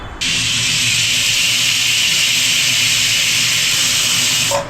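A pressure cooker cooking methi pulao lets out a loud, continuous high-pitched whistle of escaping steam, close up and alone, lasting several seconds before cutting off abruptly.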